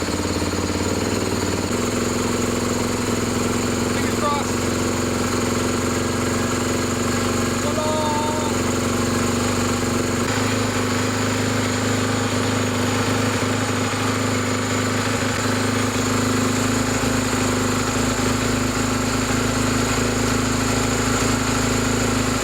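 A 2014 Honda CRF450R dirt bike engine runs steadily throughout, loud, close and unchanging, a continuous rough idle with a constant droning hum and no pauses.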